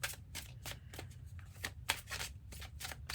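Tarot cards pulled from a deck and shuffled, a series of crisp papery flicks and riffles in close, quiet succession, with soft handling rustles between them.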